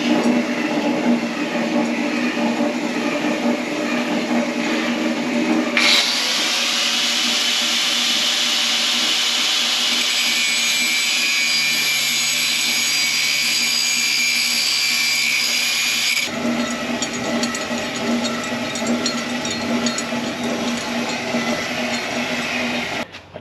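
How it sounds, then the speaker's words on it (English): Angle grinder cutting into a 1974 Holden HJ GTS Monaro during a rescue from decades parked: a loud, continuous high-pitched grinding whine that starts abruptly, holds steady for about ten seconds, then cuts off, with a duller mechanical rumble before and after. "I'll get my grinder ready."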